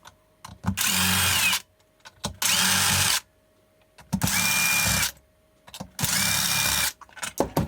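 A power driver backs screws out of the bottom of an electric scooter battery pack in four sustained whirring bursts, each lasting about a second, loud and close, with brief clicks and handling noises between the bursts.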